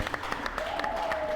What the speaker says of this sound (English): So Let's give go. yourselves a round of applause.